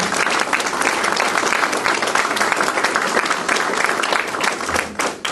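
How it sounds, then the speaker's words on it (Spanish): Audience applause welcoming a speaker at a public lecture in Capitán Sarmiento, Argentina: a full, continuous round of clapping from a sizable crowd, loud and even, dipping briefly near the end. "para quien pedimos un fuerte aplauso y le damos la palabra."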